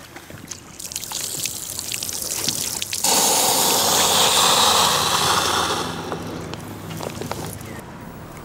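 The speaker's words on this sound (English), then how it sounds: "Swish the water around and then drain it completely through the deflator hose." Water drains and gushes from a scuba BCD through its deflator hose, a steady trickling rush that swells loud midway and then eases back to a softer dribble, with no talk.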